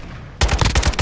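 Rapid automatic gunfire in the video game Warzone 2, a loud, close burst of about six quick shots that starts abruptly after a short quiet moment.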